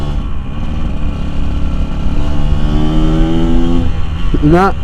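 A Yamaha RX King motorcycle rides along a road in Tanjung Bunga, its engine droning loud and close, with rising and falling revs through gear changes and a sharp rev climb at the end.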